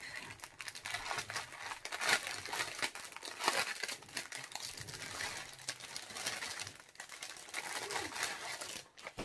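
Plastic and paper packaging crinkles and crumples continuously as a newly unboxed item is unwrapped, with irregular rustling bursts and crackles close by, no talking.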